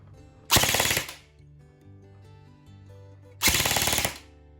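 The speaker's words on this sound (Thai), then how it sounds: "วันนี้ลองมายิงกันเป็นชุดนะครับ สัก1-2 ชุดนั่นเองครับ ไปที่ออโต้นะครับ" MK18 airsoft rifle (E&C 603/620 S3) firing two short full-auto bursts, each about half a second of rapid loud clatter, separated by a quiet gap.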